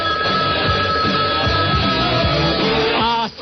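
A radio show's call-in line rings with a continuous electronic tone and busy musical pattern, playing loudly and steadily, then cutting off near the end.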